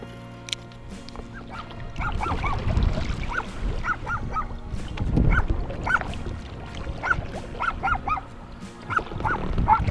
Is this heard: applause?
no